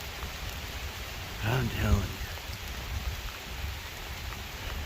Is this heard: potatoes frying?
no